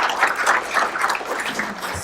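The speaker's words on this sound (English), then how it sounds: "let's give these incredible young students a round of applause" Audience applause for young students at a sheriff's breakfast event, a dense, continuous wash of clapping from a large room that holds steady throughout.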